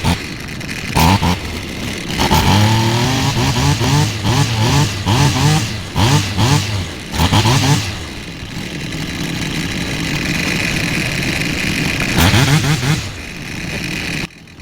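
A Stihl grass cutter's small two-stroke engine runs with its air cleaner removed, giving a loud, rough buzz with repeated revving bursts and an uneven, sputtering idle throughout.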